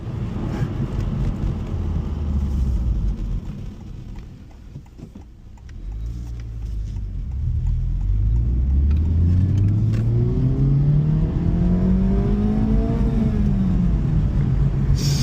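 A 2024 Honda Civic Type R, a front-wheel-drive car, revs its engine loudly up close: a strong rumble dips briefly, then climbs in a rising whine and hangs at high revs before easing, with no talk.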